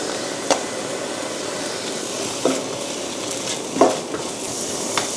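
Carrots and bamboo shoots stir-fried in a pan for a vegetarian tofu dish, a steady sizzle broken by a few sharp scrapes and clanks of the spatula against the pan.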